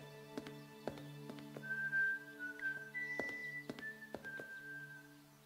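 Dwayne, a character in the video game Broken Sword 5, whistles a thin melodic tune over a quiet game soundtrack, dotted with soft clip-clop taps and thunks, faint and steady with no speech.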